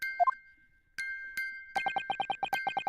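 A music box in the courtroom video game The Great Ace Attorney Chronicles: a few isolated bell-like notes, then a steady, evenly spaced run of bright chiming pulses, clear and alone.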